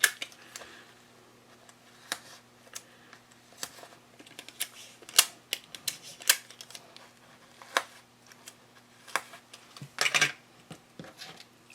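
Tape is pulled and pressed onto paper pattern pieces for bag making, giving sparse crisp ticks, crinkles and short rips at close range that come in irregular bursts.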